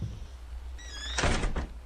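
A door banging or sliding, a single thudding knock followed by a shorter second bump over a low background hum, preceded by a brief squeaky tone.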